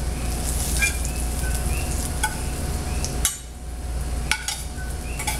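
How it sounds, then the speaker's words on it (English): Pine nuts toasting in a pan give off a soft steady crackle with occasional light clicks and a stir or two, fairly close and with no talking. "Now toasting the pine nuts gives the pesto a really nice flavor."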